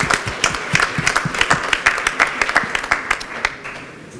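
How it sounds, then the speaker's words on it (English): Scattered applause from a modest audience at a developer conference opening in Singapore, individual claps clearly distinct and rhythmic, fading toward the end. "Round of applause, please."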